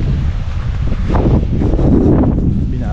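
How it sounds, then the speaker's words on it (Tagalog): Wind gusting through a bitter gourd garden, a steady broadband rush with buffeting on the microphone that swells and rustles the vines, loud and continuous throughout. "Binabayo ng hangin mga kabady."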